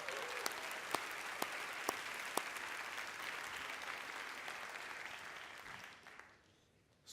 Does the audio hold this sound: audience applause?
yes